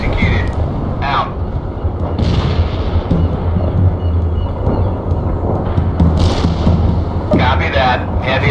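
A heavy artillery barrage in the strategy game World in Conflict, with a dense rumble of deep booms and rolling thunder-like blasts running continuously, while a radio-style voice talks over part of it.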